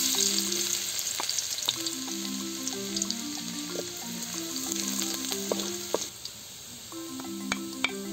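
Garlic sautéing for pancit canton bilasa sizzles steadily in hot oil, with a constant frying hiss broken by light clicks and scrapes of stirring; no one speaks.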